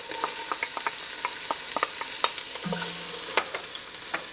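Onions frying in hot canola oil in a Dutch oven, a steady close sizzle with scattered small pops and crackles and brief scraping stirs, no talking.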